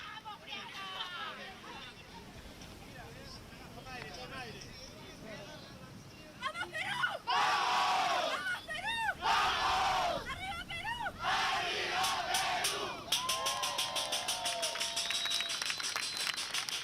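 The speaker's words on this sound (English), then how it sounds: "A lot of people involved in that chant right here at the end" A crowd at a junior world surfing championship chants and cheers in rhythmic, energetic bursts, swelling loud midway with whoops and shouts, while a commentator talks over the noise.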